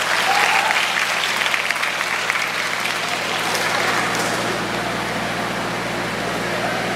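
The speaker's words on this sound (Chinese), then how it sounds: "我们一样以掌声来欢迎张牧师上台。" An audience at a church gospel outreach event applauds loudly to welcome a pastor on stage, a dense, sustained roar of clapping that fades slightly toward the end, with no talking over it.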